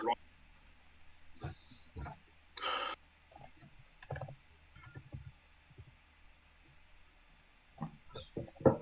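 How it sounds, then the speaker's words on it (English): A mouse clicks quickly and sharply during a competitive tournament match, in irregular bursts of faint taps against a quiet background, with low talk in between. "I hear frantic clicking"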